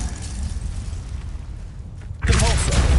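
A fire spell cast in the Hogwarts Legacy video game bursts out as a sudden loud whoosh and crackling boom over a steady rumbling game background.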